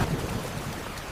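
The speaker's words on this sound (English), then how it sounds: "It's raining even harder now." Heavy rain pours down as a steady, dense, full hiss with no breaks. It is loud and constant, and no voices or other sounds come through it.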